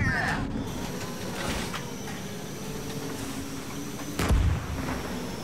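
A tank cannon in a Cold War armored combat game fires once with a sharp, deep boom near the end, over a low rumbling engine bed with a few fainter thumps earlier.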